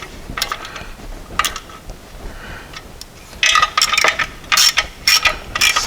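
A ratchet clicks in quick bursts as bolts are tightened down onto a flywheel during a rear crankshaft seal replacement, with louder, denser ratcheting toward the end and no talk.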